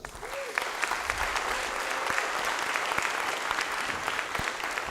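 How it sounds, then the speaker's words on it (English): An audience at a high school band and choir awards concert gives a sustained round of applause for a freshman lettering, with claps crowding densely together at moderate loudness for the whole stretch. "Give a big round of applause to Derek Bogart."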